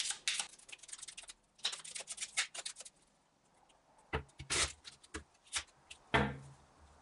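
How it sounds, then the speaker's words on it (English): A deck of playing cards is shuffled by hand in short crisp bursts of riffling and snapping, with brief pauses between, close up and with no talking. "First, give your cards a shuffle."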